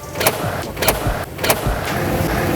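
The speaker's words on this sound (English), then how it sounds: "that almost rifle loading sound of how it locks and unlocks" Sharp mechanical clunks of a 2020 Mercedes-Benz G550 G-Wagen SUV door lock actuating, several quick thuds in a row over a low vehicle hum, close and loud.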